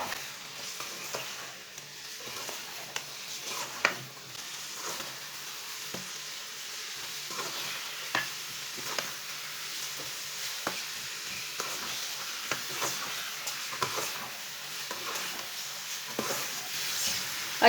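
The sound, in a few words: stirring and frying chicken in oil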